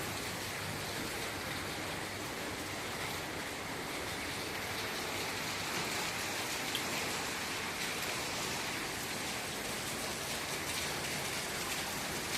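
Steady rain falls continuously in Balaji Garden, Sengundram, Chennai, a dense even hiss of drops on surfaces, moderately distant with no voices.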